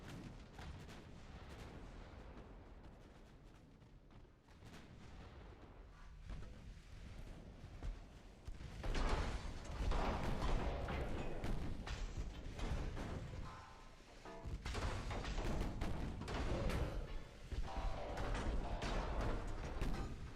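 Naval gunfire from warship batteries in the naval combat game Ultimate Admiral: Dreadnoughts, with loud deep booms and rumbling blasts recurring across the stretch, heaviest in the second half, over a constant low roar of sea and wind.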